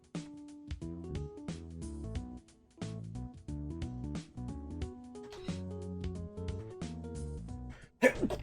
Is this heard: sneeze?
yes